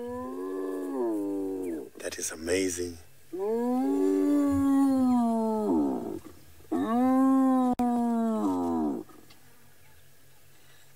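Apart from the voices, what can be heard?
hyena calls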